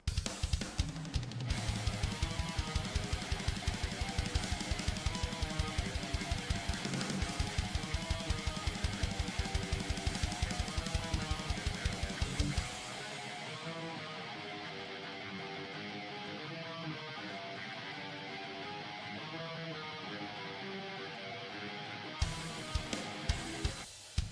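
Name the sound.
MIDI drum cymbals and kick playback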